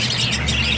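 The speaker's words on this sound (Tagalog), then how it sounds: "Kasi yung mga ibong ko, sila, maamo." Pet birds squawking and chirping in a continuous, dense chatter, close and fairly loud, with no voices over them.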